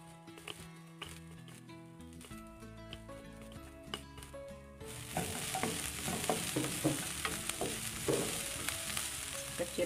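Lemongrass stalks fry with softened onion and garlic in a pan, a soft sizzle with stirring clicks that swells into a louder, steady crackle halfway through, with no voices.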